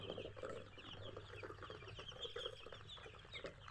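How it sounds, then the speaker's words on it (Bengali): Coloured backyard chickens, recently recovered from illness, cluck softly and continuously in a quiet, faint recording with no talking. "কালারবাট মুরগি রয়েছে।"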